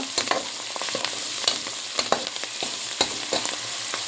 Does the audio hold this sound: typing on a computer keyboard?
no